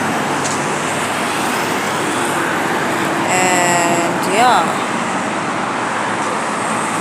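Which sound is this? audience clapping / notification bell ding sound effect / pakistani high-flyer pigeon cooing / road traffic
road traffic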